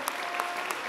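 An audience applauds the young performers at the PK Lukec Brežice 2022 New Year show "Zimske radosti", with a brief, steady burst of many hands clapping close together in a hall.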